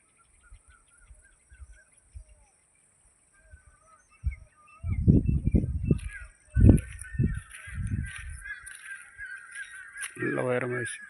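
After some quiet, a person's voice and low bursts of sound are heard, then a flock of birds roosting in tall old coconut trees breaks into loud, overlapping calls together.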